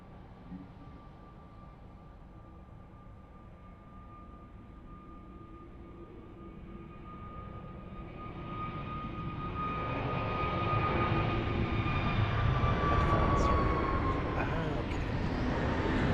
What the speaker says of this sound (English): So the second A320 Neo for TAP Portugal.